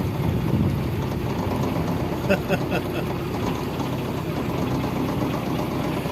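A canal hire boat's diesel engine idles in a low, steady chugging drone, heard close, with a few brief knocks partway through.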